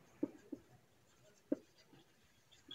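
A pen writes accounting entries by hand on paper, with a few short faint scratching strokes separated by pauses in a quiet room.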